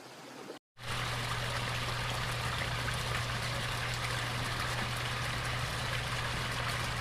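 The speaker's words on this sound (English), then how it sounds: "I can listen to that running water all day long" Water running down a koi pond waterfall outdoors, a steady continuous splash and trickle with a faint low hum beneath, starting after a brief cut of silence and holding level throughout.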